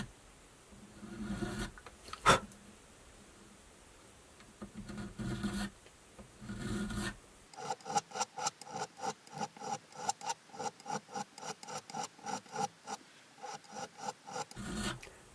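A fret recrowning file rasps across the frets of a Charvel guitar, a few scattered strokes at first, then a quick, even series of close, faint scraping strokes.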